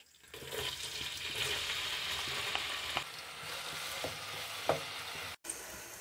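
Finely chopped onions, with cinnamon and a black cardamom pod, frying in a pan until golden for beef paya, giving a steady sizzle with occasional stirring clinks, close by and continuous throughout.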